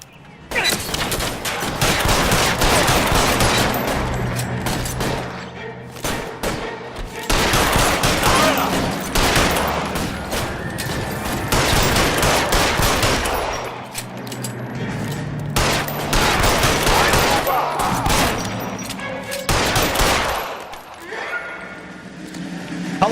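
Dense bursts of gunfire crackle through a shootout in the video game L.A. Noire, with loud volleys repeating in waves across the scene and voices heard between them.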